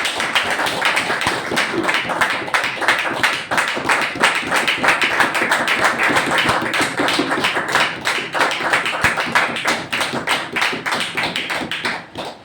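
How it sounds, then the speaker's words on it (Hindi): An indoor audience at a health session claps steadily and loudly, a dense close patter of many hands continuing for about twelve seconds before tapering off at the end. "मैं हार्दिक स्वागत करता हूँ जोरदार तालियों के साथ"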